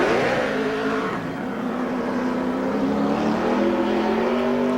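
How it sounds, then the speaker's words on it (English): A NASCAR Nextel Cup stock car, the DuPont Chevrolet, races by with a loud engine roar that climbs steadily in pitch as it accelerates, heard close and alone for several seconds. "Jeff Gordon in the DuPont Chevrolet."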